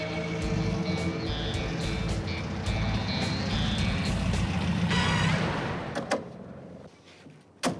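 A 1974 Volkswagen Thing with its engine running at a steady, loud rumble for several seconds, then dying away, followed by a couple of sharp knocks or door-like clunks near the end.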